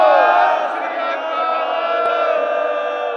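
A large Sikh gathering shouts the jaikara response in unison, a loud sustained roar of many voices that fades slightly as it holds.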